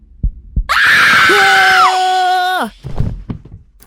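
A single loud, piercing scream in a kitchen holds a high pitch for about two seconds before dropping off, with a few soft thumps around it.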